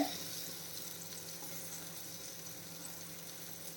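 Small ripe banana fritters, pazham pori coated in batter, frying in a pan of hot oil, giving a dense, even, close-up sizzle that runs without a break and with no voices.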